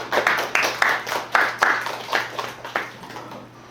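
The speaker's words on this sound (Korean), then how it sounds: "이찬수 박사님께 다시 한번 큰 박수 부탁합니다" An audience at an evening lecture in a Ssial hall claps after the talk ends, a steady burst of hand claps from a small crowd that rises and then gradually tapers off.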